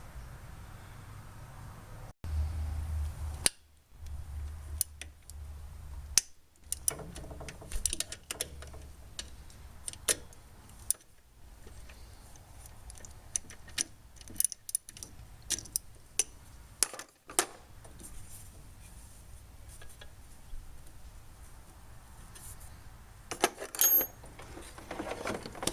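Ratchet loosening alternator bolts on a Honda Accord: repeated quick metallic clicks in irregular runs, with brief pauses between cranks, close and clear.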